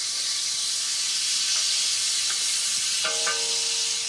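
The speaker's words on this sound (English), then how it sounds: "So, we let that sizzle away for a moment or two." Chicken pieces browning in hot oil for an African-style biryani or paella give off a steady, loud sizzling hiss that stays even throughout, with a few faint clinks from a stirring utensil near the end.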